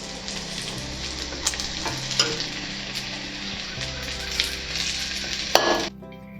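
Onions, ginger-garlic paste and chopped coriander leaves sizzle and fry steadily in a pan, with occasional stirring clinks against the pot, close and continuous.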